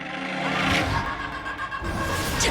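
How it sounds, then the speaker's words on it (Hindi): A car engine runs and pulls away, a steady motor roar with rising revs and a passing whoosh, heard alone without talk. "अच्छा पद्मा जी, गाड़ी निकालो।"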